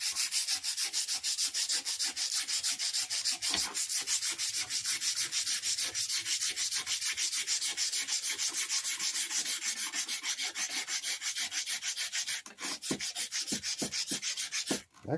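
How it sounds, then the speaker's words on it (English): Fast, steady hand strokes of 240 grit sandpaper scrub rust off the front shock of an Arctic Cat Ramrod, a close, continuous rhythmic scratching that breaks up near the end. "I got some sandpaper here. Get some 240 grit."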